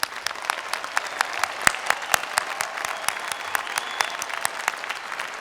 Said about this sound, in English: I want to pause to have all your families and friends give you a round of applause.